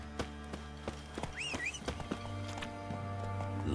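Geralt's horse Roach gallops in The Witcher 3, steady hoof clip-clops under an ongoing game soundtrack of music and ambience, with a brief whinny partway through, moderately loud and close.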